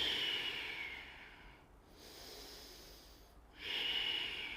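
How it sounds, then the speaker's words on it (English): Slow, steady breaths drawn in and out during a yoga flow, a long airy inhale-exhale cycle repeating alone at close range with a quiet pause in between. "Keep the breath flowing."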